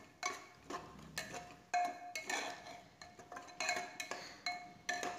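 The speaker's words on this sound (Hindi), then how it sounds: "फिर मैं इसे अच्छी तरह चलाऊंगी।" A tomato and pea mixture stirred in a metal pan on the stove, giving repeated clinks and scrapes of a spoon against the pan in an irregular rhythm, close and fairly quiet, with no talking.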